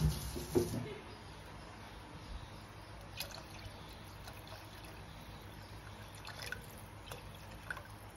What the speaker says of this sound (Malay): Masuk sikit lagi air